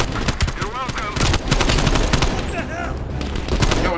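Rapid automatic gunfire from Call of Duty: Black Ops Cold War crackles in dense, continuous bursts, loud and close, with voices talking over parts of it.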